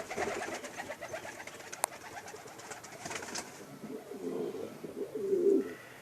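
Soft, low pigeon cooing from a wooden pigeon enclosure comes and goes over a steady background hum, growing a little louder toward the end.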